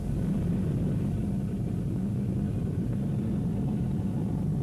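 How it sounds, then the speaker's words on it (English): Rocket engines roaring at launch, a dense, continuous low rumble that fills the whole stretch at steady loudness, heavy and distant with no voices over it. "The engines roar like a million claps of thunder, an unearthly sound that is felt more than heard"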